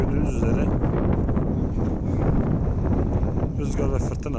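Strong storm wind at an earthquake relief tent camp in Afghanistan, where tents have been blown over, roars steadily and buffets the microphone close up, with a voice partly buried beneath the gusts.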